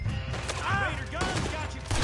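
Raider gunfire in Red Dead Redemption 2, a dense burst of sharp overlapping shots mixed with game voices, loud and close throughout the short stretch.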